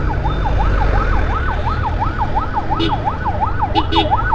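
A loud ambulance siren wails in a fast, steady up-and-down cycle amid road traffic in Tangail, with a couple of short horn honks cutting in over the constant engine rumble.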